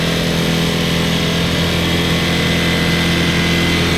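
A motorcycle engine over-revs loudly and steadily after a screw is tightened during tuning for mileage, a constant high-pitched buzzing drone heard up close with no talking.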